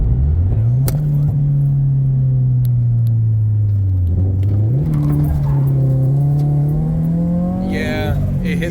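A turbocharged Scion FR-S launches hard from a standstill, its engine droning loud and steady, dipping briefly mid-pull, then climbing again as boost builds, with a brief rushing hiss near the end.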